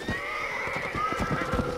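In Red Dead Redemption, a horse whinnies with a long rising and falling neigh while hooves clip-clop steadily beneath it, close and loud, with game ambience behind.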